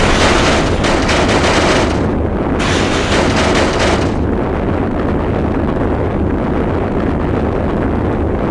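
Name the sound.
launch firing after countdown in video game Sonic Adventure 2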